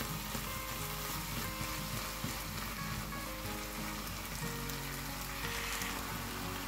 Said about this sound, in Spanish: Para que se me vaya haciendo bien el bacalao y se vaya terminando de desmenuzar.